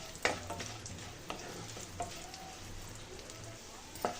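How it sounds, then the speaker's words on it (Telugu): Raisins roast in a pan until golden brown, giving a soft, close sizzle with scattered light taps and stirring clicks from a spoon against the pan, no voices. "ఇప్పుడు కిస్మిస్ని యాడ్ చేసుకోవాలండి. గోల్డెన్ బ్రౌన్ కలర్ వచ్చేంత వరకు రోస్ట్ చేసుకోవాలండి."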